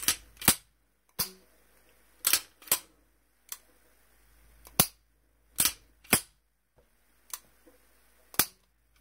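Function check of a Kimber pistol after a guide spring modification: about a dozen sharp, close metallic clicks and snaps of the slide and trigger, in irregular pairs and singles separated by near-silence, with no talking.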